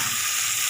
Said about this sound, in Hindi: अब हम इसके अंदर टमाटर और हरी मिर्ची शामिल करेंगे। इन्हें भी हम फ्राई कर लेंगे।